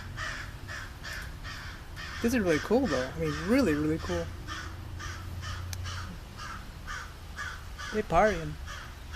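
Several crows caw repeatedly in harsh bursts across the clip, some loud and near, with a person talking over parts of it.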